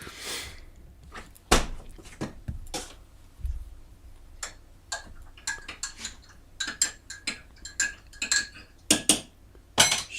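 A spoon stirring weak coffee in a cup, giving irregular bright clinks and taps against the ceramic, close and fairly quiet, with no talking.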